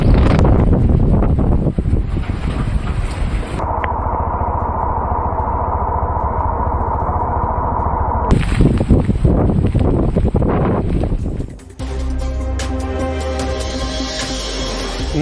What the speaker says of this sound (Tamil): ராமேஸ்வரத்தை அடுத்த தனுஷ்கோடியில் கடல் சீற்றம்